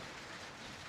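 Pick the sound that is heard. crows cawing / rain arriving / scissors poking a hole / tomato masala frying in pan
rain arriving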